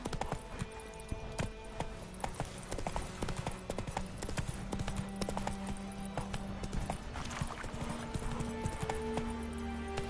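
A horse gallops in The Witcher 3 on PS5, a fast, steady run of hoof clip-clops close up that carries on throughout, with a snort or whinny and low game ambience underneath.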